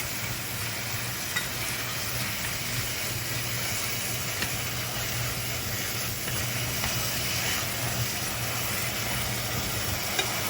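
Beef and Vietnamese sausage frying in a skillet, giving a steady, continuous sizzle and hiss with light stirring throughout, close and fairly even in level with no talking.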